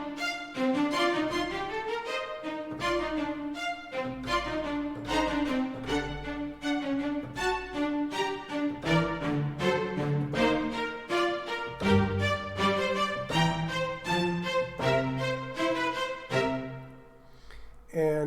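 MIDI keyboard driving full staccato orchestral strings through ReMidi 2, with rapid detached string notes and chords played continuously at a steady, moderately loud level, no voices.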